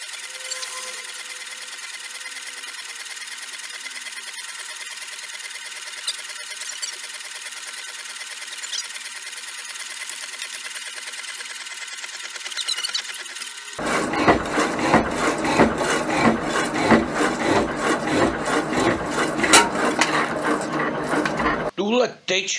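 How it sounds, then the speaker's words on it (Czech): A slow old mechanical power saw cuts round bar stock. A steady machine hum runs for a while, then gives way to loud, rhythmic, rasping cutting strokes that repeat evenly up close until they stop abruptly. "Tentokrát to odnesla moje stará strojní pila."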